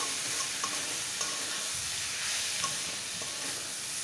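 Batta fish seasoned with turmeric and salt frying lightly in a pan: a loud, continuous sizzle with stirring scrapes and small pops, close and uninterrupted.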